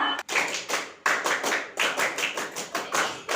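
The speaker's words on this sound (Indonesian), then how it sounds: "Tepuk pramuka." A group of scouts claps in a brisk rhythmic pattern, sharp bursts in quick clusters with brief pauses, loud and close.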